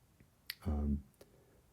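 Clap and snap samples from the Still Life plugin: a sharp snap, then a fuller, longer clap-like burst with a boomy low body, and a faint click after, all fairly quiet with no talk.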